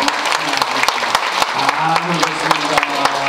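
Church congregation applauding at a Christmas service, a steady wash of clapping from many hands filling the room, with a voice speaking over it.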